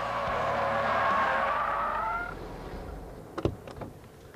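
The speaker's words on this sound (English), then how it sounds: "I lifted my foot off the accelerator. That upset the balance of the car, pitched the nose forward, and caused the spin." A car spins out on a track after the driver lifts off the accelerator, its tyres screeching in a long wavering skid that fades after about two seconds, followed by a few dull thumps and bumps.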